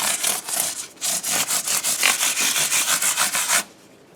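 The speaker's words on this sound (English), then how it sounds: "you can polish the frets this way. So use your finger as like a sanding block" Guitar frets are sanded and polished with fine-grit abrasive under a fingertip, giving a close, steady back-and-forth scratching in even rhythmic strokes that stops abruptly near the end.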